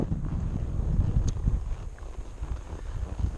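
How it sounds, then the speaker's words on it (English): Wind buffets a camera microphone outdoors during horse training, a steady low rumbling roar that fills the clip with uneven gusty swells and no voices. "It's a little bit windy out today."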